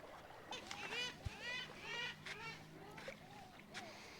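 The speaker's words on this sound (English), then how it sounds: "Look at those beautiful gulls." Gulls on the rocky coast at The Bluff, Encounter Bay, South Australia, give a run of repeated squawking calls that overlap and rise and fall, fairly close and clear.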